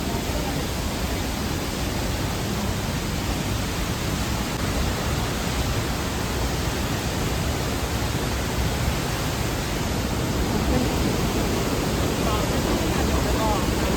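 A loud, constant roar of rushing water from a waterfall at Napne in Vaibhavwadi, broad and unchanging, filling the whole stretch.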